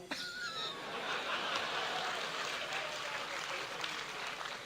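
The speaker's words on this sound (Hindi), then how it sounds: "चेयरमैन साहब ने ताली बजा के साबित किया" A chairman claps amid a crowd's soft laughter and applause at a kavi sammelan poetry recital in Pali, Rajasthan, a steady diffuse wash of sound heard faintly from a distance.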